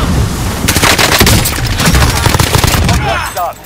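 Rapid gunfire in Call of Duty Warzone: loud, close bursts of automatic shots crackling in a dense rhythm, with a brief pause before the shooting trails off at the end.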